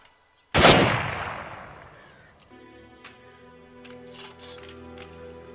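Gunfire in a Hindi-dubbed Hollywood army action movie: one loud, close blast with a long rolling decay, then quieter scattered cracks and a low music bed.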